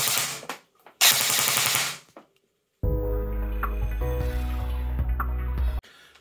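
CYMA CM.517 airsoft M4 rifle on an 8.4 volt battery firing full-auto, two rapid bursts up close, the second cut short mid-trigger, followed by a longer sustained buzzing mechanical whir.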